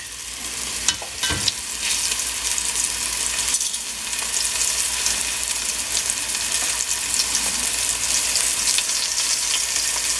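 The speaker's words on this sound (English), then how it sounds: "While the meat is browning" Short ribs brown in hot oil in a pan, a steady loud sizzle and crackle running throughout, with a couple of sharper pops near the start.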